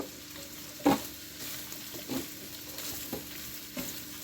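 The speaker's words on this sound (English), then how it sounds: "So now I'm going to add my sliced mushrooms in here." Sliced mushrooms sauté quietly with chorizo in a pan, a soft sizzle under a few distinct scraping clatters as they are stirred.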